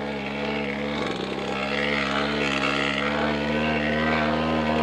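Small homemade two-stroke diesel moped engine running on a castor oil and kerosene mix while climbing a hill, a steady close buzzing drone with a rich harmonic hum that holds its pitch throughout.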